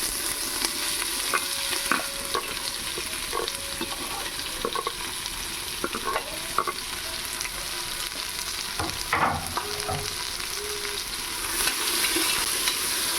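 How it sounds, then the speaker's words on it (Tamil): Three large onions sizzle and fry steadily in a pan of oil while being cooked for chicken biryani, with occasional stirring scrapes and clinks over a constant close hiss. "வழக்கமாக எல்லோரும் சொல்கிற மாதிரி தான் நல்லா கோல்டன் ப்ரௌனாக வர அளவுக்கு வெங்காயம் வறுபடணும்"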